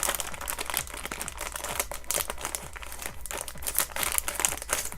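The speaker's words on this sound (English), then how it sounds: "now what we're going to do is open the candy corn." Plastic crinkles and crackles steadily up close as a bag of candy corn is handled and opened, with a dense run of rustling and small tearing sounds.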